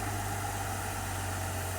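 Car engine with a GM 10L80 or Ford 10R80 torque converter under test, a steady loud low drone with a constant hum, no rise in pitch evident in this short stretch.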